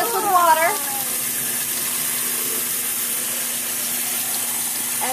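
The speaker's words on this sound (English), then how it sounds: "let's turn the water on" Warm tap water runs steadily into a sink in a continuous, close gush, with a person's voice briefly heard at the start.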